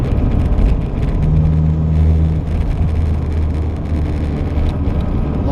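A worn Citroen CX diesel car on the move, heard from inside: a steady, loud low drone with a droning engine tone and road rumble, the pitch briefly holding then easing, no voices over it.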